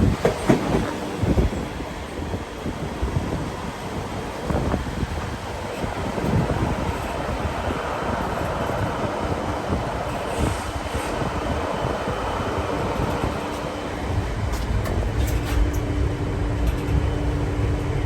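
The White Pass Railroad train climbs through mountains near Skagway, Alaska, heard from on board as a continuous rumble of wheels on rails with rhythmic clicks, creaks and faint squeals, loud and close throughout, with no talking.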